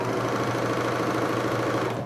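A serger overlock sewing machine runs steadily while piecing a quilt, a continuous close, even mechanical whir with a fast stitching rhythm and no pauses or talk.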